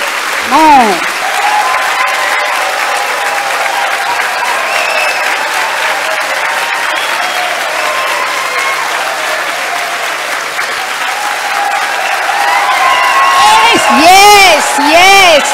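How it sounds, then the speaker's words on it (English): A standing audience at a 100th birthday celebration in London gives long, loud applause, with cheers, whoops and shouting voices rising over the clapping, especially near the end. "you should stand up and applaud in such a way"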